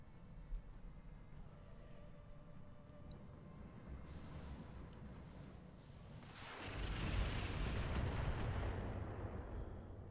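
Mech weapon fire from the game Battletech, distant booming shots early on, then a loud rumbling barrage swelling and lingering through the second half.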